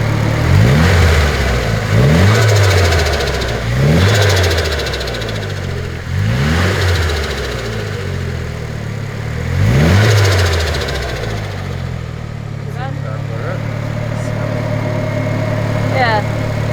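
A Nissan Silvia S14 with an aftermarket exhaust revs in repeated sharp blips roughly every two seconds, each dropping back toward idle, then settles into a steady warm idle near the end as people talk over it.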